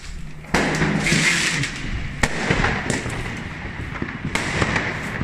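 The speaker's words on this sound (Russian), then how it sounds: "Везде, везде одни залпы." New Year's fireworks crack and bang in the streets of Apolda in a steady barrage, with sharp nearby bursts over a continuous crackling rumble.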